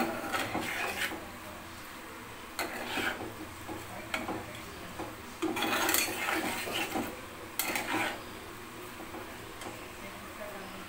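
Hilsa fish head being stirred with spices in a pan, with scattered clinks and scrapes of a utensil against the pan over a quiet kitchen background, some softer than others.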